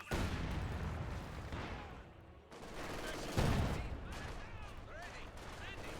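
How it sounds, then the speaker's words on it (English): An MG42 machine gun firing during a Company of Heroes 2 battle, sustained rattling bursts mixed with other distant shots and blasts, with a voice talking over the fighting. "MG42 setting up, even though it's flanked by the engineers."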